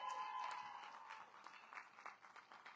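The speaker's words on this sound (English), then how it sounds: "Can we have a big hand for the Tombstone JROTC?" Faint applause from an outdoor Relay for Life opening ceremony crowd honoring the Tombstone JROTC, a soft, distant wash of clapping with a few louder claps scattered through it.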